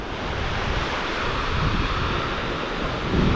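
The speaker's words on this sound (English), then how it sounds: "Good surf today." Ocean surf on a New Hampshire beach, a continuous close roar of breaking waves and wash, slightly swelling near the end, with no talk.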